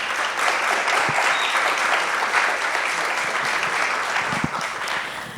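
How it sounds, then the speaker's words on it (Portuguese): Audience at a music festival clapping for a singer, dense sustained applause from a crowd that holds steady for several seconds before tapering slightly at the end. "Palmas para a Daisy"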